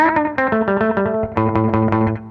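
An electric guitar played through a Belle Epoch Deluxe echo pedal, overdriven and crunchy, strikes a quick run of distorted notes with echoes trailing each attack, loud and up close.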